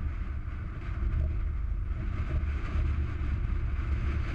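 Strong wind blows hard, buffeting the microphone with a constant loud rumbling roar throughout, with no voices present.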